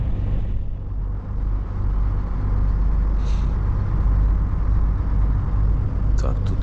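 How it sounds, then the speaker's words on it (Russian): A bus rumbles past on a foggy, frozen road in Yakutsk, a loud low engine drone that holds steady throughout, with a brief hiss near the end that could be an air brake. "Так, тут автобус, слышишь?"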